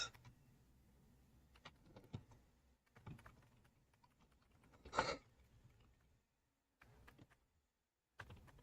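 Typing on a computer keyboard, scattered bursts of soft key clicks with pauses between them and a sharper tap near the middle, quiet and close, no talk.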